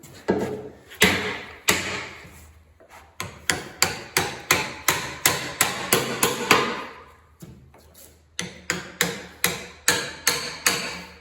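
A hammer strikes repeatedly while a workbench is built, landing sharp, evenly spaced blows in quick runs with brief pauses, loud and close with no speech.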